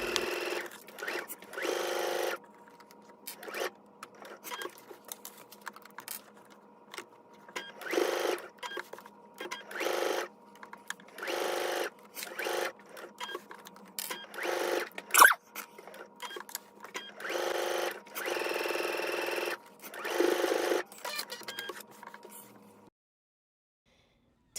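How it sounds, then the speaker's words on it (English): A home sewing machine stitches close to the side and lower edges of a shorts pocket, whirring in repeated short bursts with brief pauses between runs, close and steady. "I'm going to go ahead and take this to my sewing machine."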